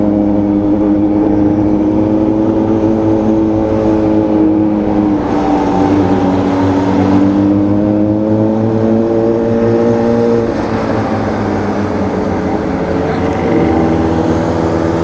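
A car engine drones and revs continuously up close, its tone rising and falling over several seconds, with a strange noise from the motor mixed into the steady roar.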